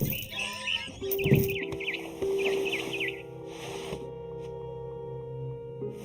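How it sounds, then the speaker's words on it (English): Barn swallow chirping in What Remains of Edith Finch: a run of short repeated tweets sits over steady ambient game music and tones, with a brief louder burst near the start. "Then I heard chirping outside my window. It was a barn swallow going back to her nest."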